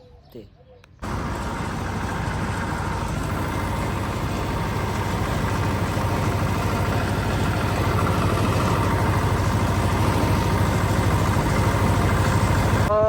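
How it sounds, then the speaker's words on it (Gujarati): A heavy tractor engine idles and runs steadily at close range, a constant low rumble with a faint whine, starting abruptly after a second of quiet. "આપણે જવાનું હતું ટ્રેક્ટર લઈને વાળીએ"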